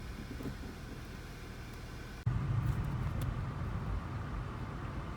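A VW GTI with a 6-speed manual, just after a transmission repair and short shifter install, drives along with a steady low road and engine rumble inside the cabin, jumping louder partway through as it accelerates.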